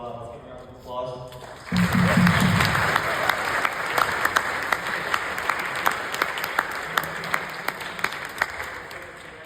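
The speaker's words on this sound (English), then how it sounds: "let's give a round of applause" A round of applause from the audience at an FTC robotics season kickoff, with dense clapping that swells after a brief opening murmur and continues steadily for several seconds.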